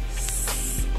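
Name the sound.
perfume fragrance spray from a tube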